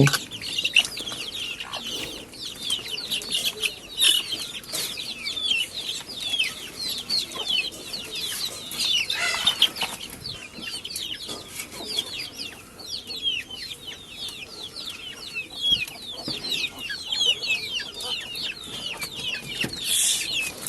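Many chickens cluck and murmur continuously nearby, a busy overlapping chatter with occasional louder squawks.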